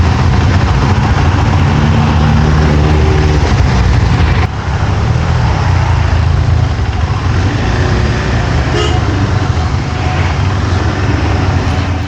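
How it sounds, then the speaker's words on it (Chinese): Congested city traffic in Borjomi, Georgia, heard from among the vehicles as a loud, unbroken roar of engines and wind with a steady low drone throughout. "来到了 Borjomi， 市内交通相当的拥挤。"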